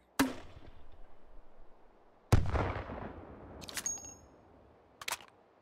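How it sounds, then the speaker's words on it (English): A grenade launcher fires in the VR game Hot Dogs, Horseshoes & Hand Grenades. Sharp isolated shots and a heavy booming report echo out in a quiet space, followed by metallic clicks and clacks of handling. "we can't just put a grenade launcher on there without firing"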